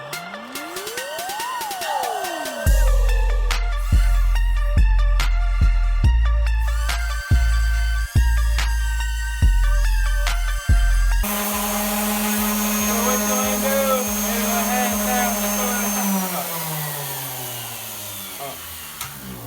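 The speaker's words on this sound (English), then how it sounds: "All we have to do is take a sander, sand it down to 220 grit, and she's ready to be casted into a table." Power sander working a wood slab down to 220 grit for a resin coffee table: a loud, steady motor whine with repeated rising pitch sweeps and knocks as the pad meets the wood, close and continuous, no talk.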